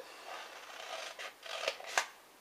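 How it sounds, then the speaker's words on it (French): Paper scissors snip through folded paper along the crease, giving soft rubbing cuts followed by two sharper, crisp snips close by and fairly quiet. "je vais prendre une paire de ciseaux et je vais découper"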